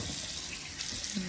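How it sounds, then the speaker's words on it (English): Tap water runs steadily into a sink while face wash is rinsed off, a close, continuous hiss with a faint splash near the end. "I'm going to rinse this off."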